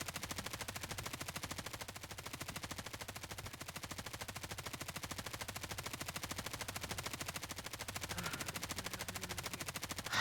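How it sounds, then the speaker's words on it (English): Rapid, continuous bursts of automatic gunfire rattle without pause, dense and fairly loud, like sustained machine-gun fire with no voices. "Gunfire, if you wouldn't mind."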